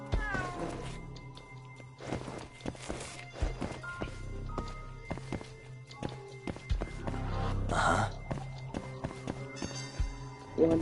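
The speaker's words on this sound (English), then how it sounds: "I want to get the trophy for getting the cat" A cat meowing in the video game Judgment, with several repeated meows amid footsteps, thuds and other game sounds.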